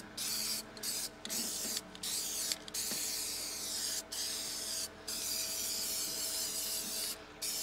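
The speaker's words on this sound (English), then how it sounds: "We're just going to go ahead and spray everything down that's rusty." An aerosol can of rust reformer hisses in long continuous bursts onto rusty trailer metal, with brief pauses between sprays, close and steady.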